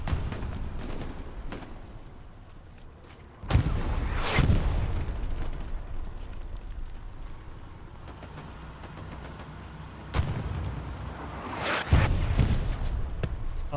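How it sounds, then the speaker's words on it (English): Video game artillery shells land in a steady barrage of rumbling impacts, with sharp, loud blasts at about 3.5 and 12 seconds and a heavy boom near 10 seconds over continuous battle noise. "Artillery are both landing around rail"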